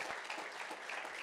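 Congregation applauding inside a church during a prophetic worship service, a dense steady wash of many hands clapping throughout, with no clear breaks.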